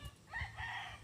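A chicken near a reservoir gives a short, faint crow-like call, heard briefly over quiet outdoor ambience.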